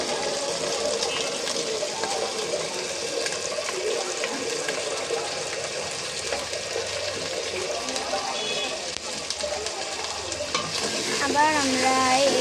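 Beef being stirred with turmeric powder and salt in a pan for a Bengali beef bhuna, giving a steady scraping, sizzling sound throughout, loud and close.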